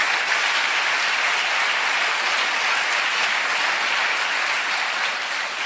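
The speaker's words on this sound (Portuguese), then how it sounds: "aplauda ao Senhor" A church congregation applauds in a long, even wash of dense clapping that fills the room at constant loudness, with no voices standing out.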